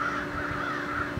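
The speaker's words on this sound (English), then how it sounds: "Are they having like a little bird meeting over there?" A flock of crows cawing noisily outdoors, harsh overlapping calls forming a steady loud chorus with no talking.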